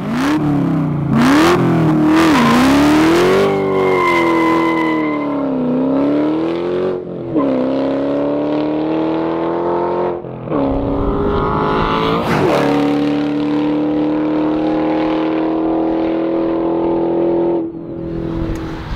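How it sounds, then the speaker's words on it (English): A specially tuned Dodge Hellcat Challenger HP850 engine revs loud and close, its pitch climbing and dropping through repeated throttle blips before settling into a steady high drone. "today I'm going to do a test drive in one of our specially tuned Dodge Hellcat Challengers"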